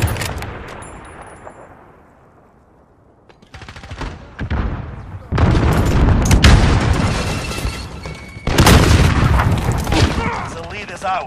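Repeated bursts of gunfire in a Modern Warfare team deathmatch, loud volleys and rapid automatic fire after a quieter fading start, with a player talking over the shooting.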